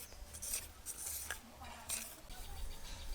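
A spoon stirs gram flour with salt and baking soda in a bowl, producing repeated light scraping and clinking strokes at close range, with no talking.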